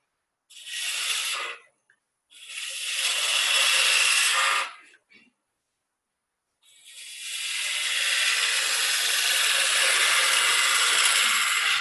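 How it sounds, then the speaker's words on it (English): A large spindle gouge cuts a chamfer on the bottom of a wooden mallet spinning on a lathe, making three loud hissing, scraping passes separated by brief silences, the last one long and steady. "I'm going to use the bigger spindle gouge for that"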